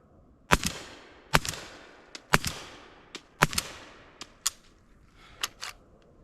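A PSA Jakl rifle in 300 Blackout fires about nine shots in an uneven string, each a sharp loud crack with a short decaying echo, some shots spaced close together and others after longer pauses.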